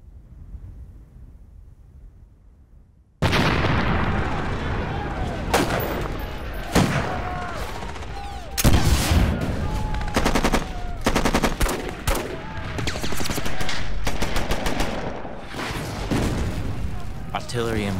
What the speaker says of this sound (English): Artillery and mortars are exploding around us.